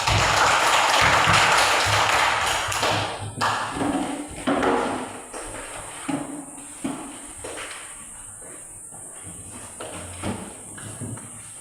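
Children in a classroom clap their hands, a loud burst of dense clapping at the start that thins into scattered claps and taps, then fades to quieter room noise.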